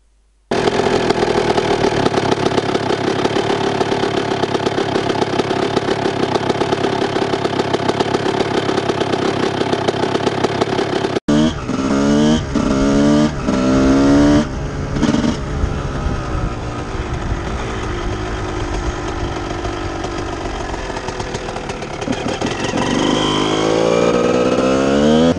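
A 1998 Honda CR 125 two-stroke motocross bike with an FMF exhaust runs loud and close: a steady high-pitched ring-ding idle, then a break, then sharp revs rising and falling in repeated blips.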